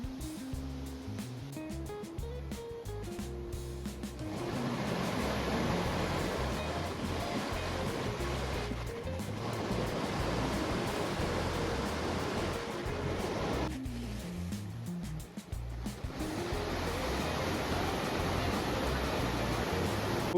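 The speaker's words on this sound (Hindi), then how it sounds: "और ये नदी देखना कितना तेज बह रही है" A fast-flowing, rain-swollen river at Maldevta near Dehradun, a steady broad rushing roar that fills the whole stretch, loud and continuous with no voices.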